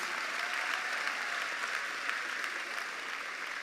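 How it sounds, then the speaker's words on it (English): Graduates and families at a 2022 Lake Worth Community High School graduation ceremony fill the hall with steady, even applause from many hands throughout. "Let's give yourselves a round of applause."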